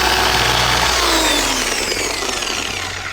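A machine polisher runs steadily on car paint, a loud continuous whir with a faint drop in pitch as it works across the panel.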